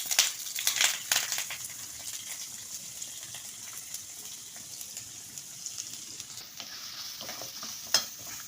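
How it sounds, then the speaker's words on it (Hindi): Finely chopped carrots fry in hot oil in a pan for a vegetable soup, giving a steady bright sizzle. A cluster of stirring scrapes and clatters comes near the start, then the frying continues on its own. "अब हम इसमें वेजिटेबल्स फ्राई करेंगे।"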